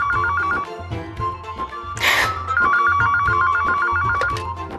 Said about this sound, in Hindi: कोई फोन तो उठाओ।